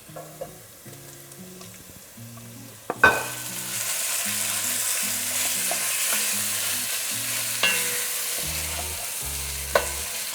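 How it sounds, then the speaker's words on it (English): Pork frying on high heat with browned onions, a sudden loud sizzle erupting as it hits the pan, then continuous hissing with occasional stirring scrapes, close up, no speech. "So keep stirring and mixing and cook on high for 5 minutes"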